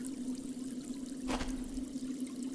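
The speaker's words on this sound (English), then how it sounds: "There's a waterfall, a tiny waterfall." A tiny waterfall trickles inside a natural cave in the Willy Morgan video game, a steady faint pour of water under a constant low hum, with a brief louder splash midway.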